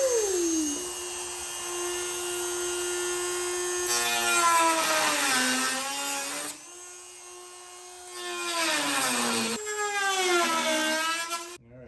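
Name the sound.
power tool cutting fiberglass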